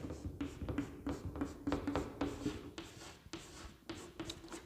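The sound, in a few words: chalk or marker writing on a board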